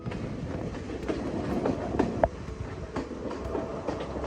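A Sri Lankan hill train pulled by two engines rolls along in heavy rain and mist, a steady rumbling clatter heard from on board with a few louder clunks, no voices.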